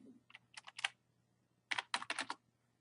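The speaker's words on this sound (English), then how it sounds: "So let's type in" Python code typed on a computer keyboard in a quiet room: two short bursts of crisp keystrokes, about five quick clicks, then a pause, then a second run of rapid clicks, close and clear with no voices.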